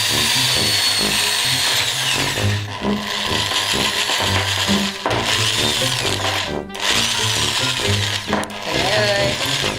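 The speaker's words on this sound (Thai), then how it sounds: "เอาสว่านนะคะ มาใส่ เครื่องปั่นนะของเรา นะ ใส่ไปที่แตงโมนะ จะเริ่มทำการปั่นแล้วนะ" A power drill driving a blender in a watermelon whirs loudly and steadily for several seconds, its motor grinding and rubbing with brief dips in pitch, while a voice speaks faintly underneath.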